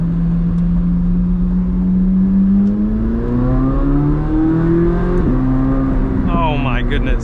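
A 2025 BMW M4 Competition xDrive tuned to 900 hp revs and accelerates hard, its engine note climbing steadily through the gears with a brief shift near the end, heard from inside the cabin with the window down.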